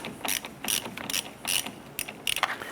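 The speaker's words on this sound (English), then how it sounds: "Using a 13mm socket, go ahead and remove our ground terminal nut here." A 13mm socket ratchet clicks in several quick bursts while loosening the battery ground terminal nut on a 1993-1997 Ford Ranger, close and fairly loud, with no talking.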